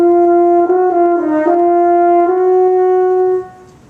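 A French horn plays the slow practice version of a turn passage from an all-state audition etude, mostly one long sustained note with a brief ornamental flutter in the middle, close and full, ending with a fade.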